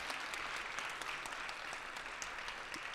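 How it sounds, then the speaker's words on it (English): Dense, steady applause from a large audience at a TEDx event at West Chester University, filling all three seconds at an even level with no voices. "So please join me in giving her another round of applause again"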